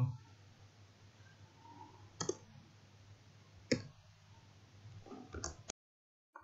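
Computer mouse clicks in a quiet room, three sharp isolated clicks spaced a second or more apart, with a final quick double click, faint low hum underneath and soft talk in the background.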